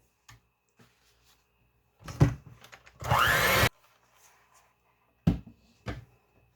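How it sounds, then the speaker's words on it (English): Baking soda and salt get mixed into batter in a home kitchen: scattered knocks and clatter, then a short loud whir of mixing lasting under a second, followed by a few more bumps. "now I'm going to throw in my baking soda and my salt. And I'll mix those in"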